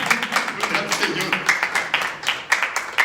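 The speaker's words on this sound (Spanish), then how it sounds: "Denle un aplauso a Cristo" A church congregation claps in a steady, rhythmic beat during a worship service, with voices talking or calling out over the clapping throughout.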